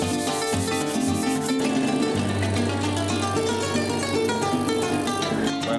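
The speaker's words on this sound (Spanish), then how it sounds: "Vamos a empezar a pulir esto." Sandpaper rubs steadily along the rounded wooden neck of a cuatro, a small llanero string instrument, in an ongoing rasp that sits beneath continuous music.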